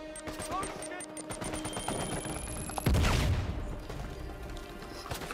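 Gunfire in the video game Uncharted 4: A Thief's End, with rapid bursts and single shots crackling in quick succession, then a loud boom-like blast, all under a busy game soundscape.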